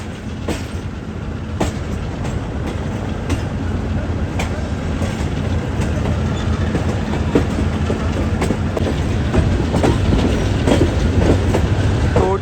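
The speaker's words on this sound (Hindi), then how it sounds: "तो 33 अब भी यहाँ रुक कर जाएगी जिस वजह ट्रेन स्लो अप्रोच बना रही है।" The Allama Iqbal Express, train 33, rolls slowly into a Pakistani station with a rumbling engine and rhythmic clatter of wheels on rail joints, steadily growing louder. Faint voices are present.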